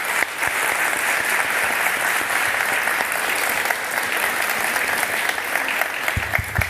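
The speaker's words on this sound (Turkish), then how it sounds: "Alkışlar kendisine gelsin." Sustained studio audience applause on a Turkish talk show, welcoming a liver transplant surgeon onto the stage; dense, steady clapping at close range with no talk over it.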